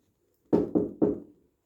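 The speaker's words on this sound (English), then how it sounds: "Knock, knock, knock. "Good gracious," said Percy. "It's the door again."" Three firm knocks on a door in quick succession, close and clear against a silent background, with no voices.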